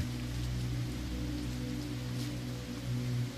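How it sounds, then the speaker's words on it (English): Rain pattering steadily onto an umbrella, a dense, even hiss of drops that stays constant and fairly soft throughout, with a low hum beneath and no voices. "you can hear the sounds of each individual raindrop which touches down onto that covering dream umbrella"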